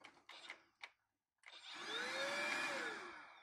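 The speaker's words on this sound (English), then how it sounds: "So it's a handheld vacuum cleaner." A Proscenic P8 Max handheld cordless vacuum cleaner starts after a few clicks and runs with a steady, loud whirring motor whine that rises slightly in pitch and holds.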